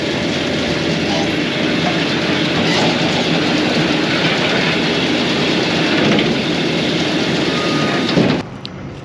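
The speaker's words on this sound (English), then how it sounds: "now I'm gonna go and bale it" Round baler working through alfalfa hay, a steady loud mechanical rumble with rhythmic clatter, close by and continuous before dropping off abruptly near the end.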